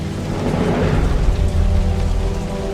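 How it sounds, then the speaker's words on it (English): Heavy rain pours down through a thunderstorm, a loud, dense roar with deep rumbling thunder rolling underneath, continuous and close. "the sky became black with clouds and wind, and there was a heavy rain."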